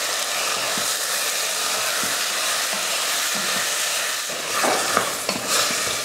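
Mutton with salt and turmeric powder sizzling in a pan while being stirred, a steady close hiss with occasional scraping and clinking of the spoon toward the end.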